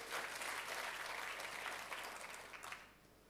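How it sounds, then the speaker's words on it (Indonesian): A church congregation applauds in a sustained burst of clapping that fills the room, then thins out and fades toward the end. "Katakan amin, tepuk tangannya yang meriah buat Tuhan kita."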